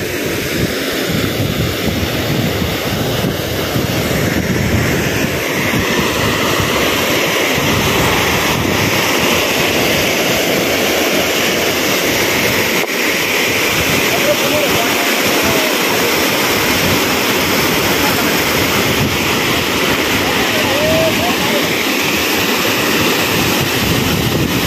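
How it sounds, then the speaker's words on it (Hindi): Rain-swollen river water rushes over a check dam in rural Rajasthan after heavy overnight and morning rain, a loud, continuous roar holding steady throughout with no voices. "देखिए पानी की आवाज़"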